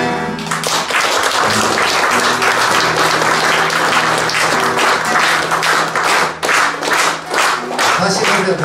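Loud, sustained applause and clapping from a concert audience after a song, dense and steady throughout, with a few faint voices mixed in.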